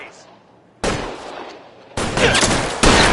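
Gunfire in the crime game LA Noire: after a quiet opening, loud sustained bursts of rapid shots crash in, escalating in two waves into heavy, continuous fire.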